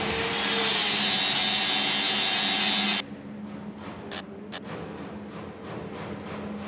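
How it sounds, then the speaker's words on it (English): A power tool sands and polishes the bodywork of Elvis Presley's classic BMW during restoration, giving a loud, steady whirring hiss for about three seconds before cutting to a quieter background with two brief clicks. "You are now watching the polishing and sanding of the bodywork."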